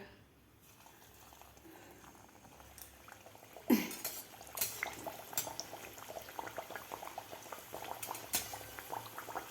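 Rice-flour sajuri dough dropped into hot oil in a home kitchen, a quiet bubbling sizzle that picks up after a sudden clatter, with faint utensil clinks scattered throughout.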